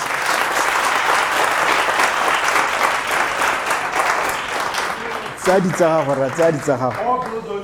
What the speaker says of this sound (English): So you can go by a super thunderous round of applause.